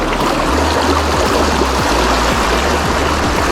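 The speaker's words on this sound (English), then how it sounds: "That is fresh spring water, and the sea is just there." Fresh spring water pours into a seawater inlet at a Japanese beach before dawn, a loud continuous rushing and gurgling flow close by with steady intensity and no voices.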